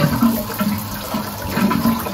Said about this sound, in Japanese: 水圧チェック